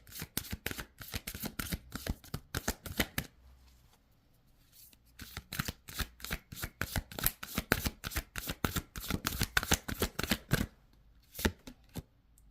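Tarot cards being shuffled by hand, a long run of crisp, rapid riffling flutters, a pause of near silence around four seconds, then more dense shuffling bursts, close and clear with no talking.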